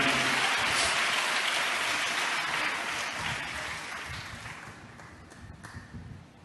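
A church congregation at Hosanna Mandir in Machilipatnam claps loudly in praise, a dense, rain-like wash of clapping that gradually thins and fades toward the end.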